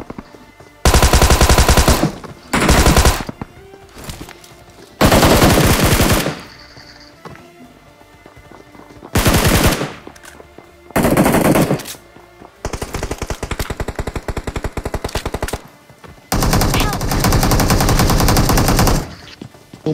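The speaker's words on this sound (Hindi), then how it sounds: "सामने की तरफ से गन साउंड भी आ रहा है और फुटस्टेप भी आ रहे हैं" Rapid automatic gunfire in BGMI / PUBG Mobile comes from the front in loud, repeated bursts, with short pauses between volleys and no talking.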